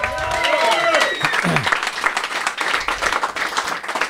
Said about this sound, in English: Little hand of applause for him.